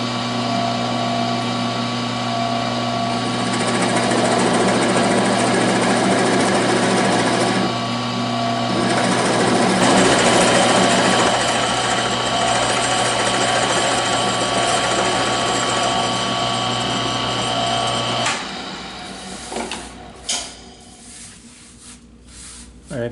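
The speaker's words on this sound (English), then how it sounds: "I'm just going to free drill this." A 1-inch spur bit free-drilling about half an inch into wood for a puzzle table: a loud, steady motor whine with a grinding cut for about eighteen seconds, then it winds down into quieter scattered knocks.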